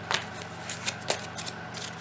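A deck of tarot cards being shuffled close by gives quick riffling bursts and soft flicks in an uneven rhythm, with no voice over them.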